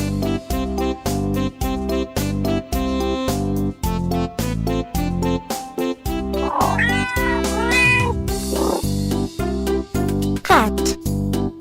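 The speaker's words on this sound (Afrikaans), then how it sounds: "Kat." Cat meowing repeatedly, close and loud, a string of drawn-out meows and caterwaul-like cries over a steady rhythmic musical backing.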